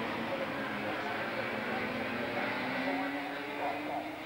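250cc production motorcycles racing on a circuit in a 1985 countrywide series, their engines blending into a steady, continuous high-revving drone that holds at an even loudness throughout.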